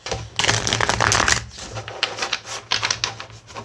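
Tarot cards are shuffled and pulled close up in a rapid run of papery riffles and slaps, with a brief pause followed by more bursts of card handling.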